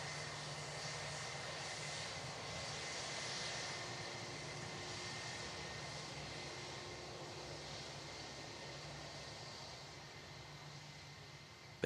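British Airways Airbus A321neo landing at Manchester Airport, heard as a faint, distant, steady jet roar with a faint hum, holding evenly throughout.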